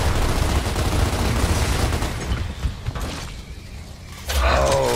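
Heavy gunfire fired at tanks in Gears of War, a dense, loud roaring barrage with mechanical clatter that thins briefly before surging again near the end.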